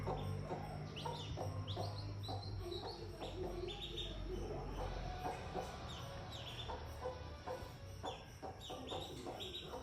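A hen clucks repeatedly close by among ducklings in a village yard, with soft chirps and tweets from the young birds mixed into a steady background.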